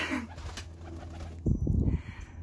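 A wet pigeon bathing in a pool gives a short burst of low, throaty cooing close to the listener. A faint splashing and rustle sits under it, and nobody speaks.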